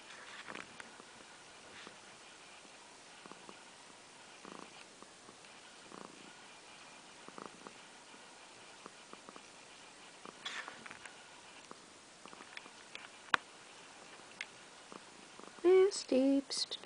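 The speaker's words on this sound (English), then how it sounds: "I hope you can hear her purr." A cat purrs softly and steadily throughout, close by, with faint rustling and a few light handling noises toward the end.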